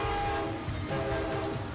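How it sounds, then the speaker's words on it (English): A train approaching on railroad tracks near a stadium, its horn sounding loud and sustained over a heavy rumbling rail noise. "And a train is coming."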